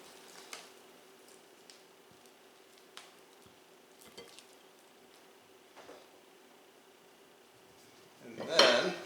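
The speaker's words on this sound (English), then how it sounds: "Let's give these a toss to coat them." Mushrooms being tossed in tempura coating in a metal bowl, with a few soft scattered clinks and scrapes over quiet room tone, then a louder rustling burst at the end; no talk.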